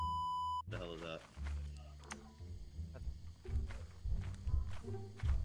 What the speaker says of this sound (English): I hear someone stomping down.